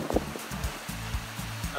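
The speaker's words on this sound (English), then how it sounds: "Oh my gosh, it's windy." Strong wind buffets the microphone outdoors, a continuous roaring rush with low gusty thumps rising and falling throughout.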